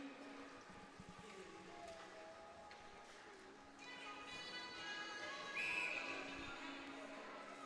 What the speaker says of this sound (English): that'll bring us to a whistle to start the third